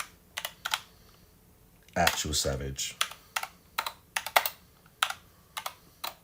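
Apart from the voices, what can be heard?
typing on a computer keyboard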